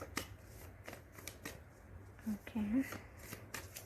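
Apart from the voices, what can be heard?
shuffling cards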